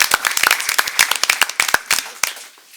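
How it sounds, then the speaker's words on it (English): Brisk applause from a modest audience at a school board of education meeting, dense overlapping claps that start strong and thin out toward the end, close and fairly loud. "Could you join me in a round of applause for Ms."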